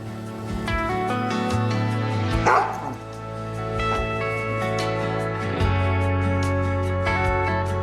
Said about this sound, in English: can hear Trigger moaning and barking.